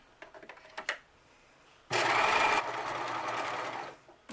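A sewing machine stitches about 1.5 inches of fabric on a cloth mask cover, running in one steady close burst after a few soft handling taps, loud at first and then slightly quieter until it stops.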